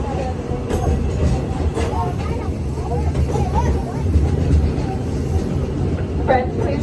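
The Walt Disney Railroad train rolls along with a steady low rumble and faint rattling of the cars, while people talk over it.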